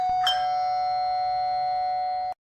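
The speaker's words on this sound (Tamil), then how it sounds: "யாரு காலிங் பெல் அடிக்காவ?" A doorbell chimes inside a village home, one bright ding that rings out clearly and holds its tone for about two seconds before cutting off, with no voices over it.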